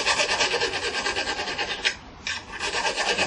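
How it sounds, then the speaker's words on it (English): A 1/8 chainsaw file rasps across a knife bevel while the blade rests on wood, giving steady, rough back-and-forth strokes, close and loud, with a brief gap before filing resumes. "So again, we use a 1/8 chainsaw file."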